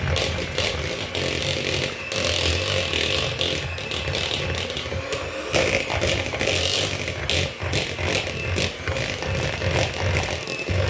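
An electric mixer beats butter and cream cheese together for a cream cheese frosting. A loud, continuous motor whine with a rattling edge runs for the whole stretch with no pauses.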